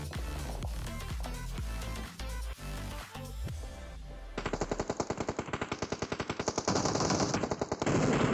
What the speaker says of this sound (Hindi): इसका भाई भी बहुत गोली चला रहा